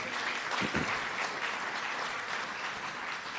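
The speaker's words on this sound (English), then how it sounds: "A round of applause for her one more time," Audience applause at a senior citizens week launch event, steady sustained clapping from a crowd filling the whole stretch at moderate level.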